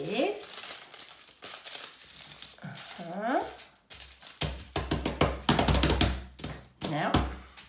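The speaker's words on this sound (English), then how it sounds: "make sure that when you fold it, it really is quite tight in the folding" Tin foil sheet folded tightly and crinkled by hand for an arts and crafts project, with dense bursts of crackling and rustling, close and fairly loud, a voice talking intermittently over it.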